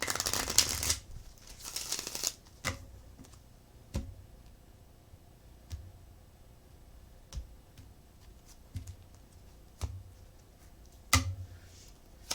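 Cards are riffled and shuffled in a burst, followed by scattered soft taps and clicks as the deck is handled in a quiet room.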